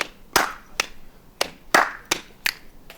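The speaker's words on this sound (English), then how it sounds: "And the clap's like in an echo." Sparse hand claps in a music recording session, each sharp clap standing alone with an echo effect trailing after it in an uneven rhythmic pattern, close and clear with no talking.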